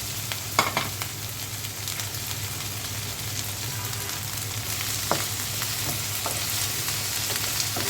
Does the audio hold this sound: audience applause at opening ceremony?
no